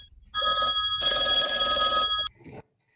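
An old-style telephone bell rings on stage during a theatre play: one short burst, a brief gap, then a longer ring, followed by a faint trailing sound and silence.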